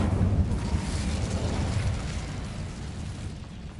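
Incendio fire spell cast in Hogwarts Legacy, a loud, roaring whoosh of flame that swells at once and then slowly fades, with no voices over it.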